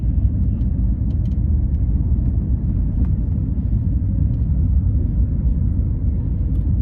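A car driving steadily in second gear during a driving lesson, a loud continuous low engine and road rumble from inside the cabin with no break in the sound.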